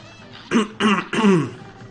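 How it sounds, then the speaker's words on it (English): A person clears their throat close up, three short rough bursts in quick succession with no other sound. "Clear my throat there."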